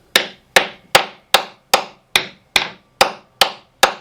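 Hammer taps on a boat hull near a newly installed garboard drain, about ten sharp even knocks at a steady rhythm, each with a short hollow ring, close and alone.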